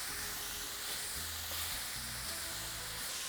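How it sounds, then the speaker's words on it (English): Fajita vegetables, onions among them, sizzle steadily in a hot pan as they are stirred, making a quiet, continuous frying hiss with soft scraping and no voices. "Now I'm just gonna constantly just stir them around."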